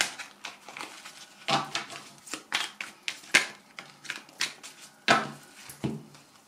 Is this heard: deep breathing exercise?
no